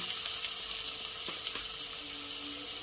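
Ground cumin and coriander paste fries in hot oil, a close, steady sizzling hiss broken by a couple of sharp ticks from the pan, with no one speaking.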